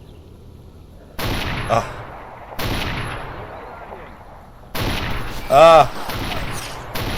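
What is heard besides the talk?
gunshots in a video game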